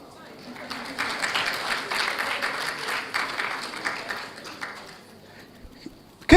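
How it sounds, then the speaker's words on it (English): Audience applause at a parents' conference hall, a sustained spread of clapping at moderate level lasting several seconds, swelling and easing, with a sharp sound at the very end. "If you want to clap, clap."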